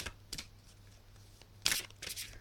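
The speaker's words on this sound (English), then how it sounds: "Just going to shuffle these cards" Oracle cards from a Doreen Virtue deck being shuffled by hand, heard as a few soft papery riffles and slaps, the sharpest burst late in the short stretch, with quiet room hiss between.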